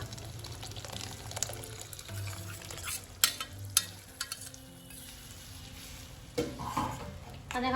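Boiled dal is stirred into frying masala in a pan, giving a wet, sloshing mix over a soft sizzle, with a few sharp clinks of a spoon against the pan, close by and no voices.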